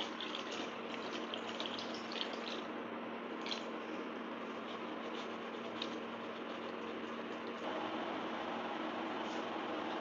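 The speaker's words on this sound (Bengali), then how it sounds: "একটু জল দিলাম।" Water poured into a pan of cooking mango chutney, a steady soft rushing and bubbling that holds evenly and fairly faint for about ten seconds.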